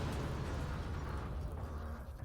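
Explosion in Half-Life 2: Episode 1, a deep rumbling blast that fills the low end and decays slowly as debris and rumble linger, fairly quiet overall.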